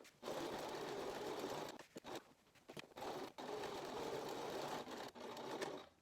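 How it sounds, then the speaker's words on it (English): A sewing machine runs a straight stitch through fabric for a plush cactus toy, a close, steady whirring buzz broken by short pauses where the stitching reverses to lock in. "So I'm going to go a few stitches and then reverse it just to lock that in"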